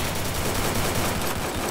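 Dense, rapid bursts of automatic gunfire in the mobile battle game Free Fire, loud and continuous with overlapping shots and no pauses.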